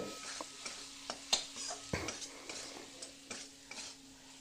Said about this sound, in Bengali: এগুলোকেও তেলের মধ্যে আলু পেঁয়াজের সাথে ভেজে নেবো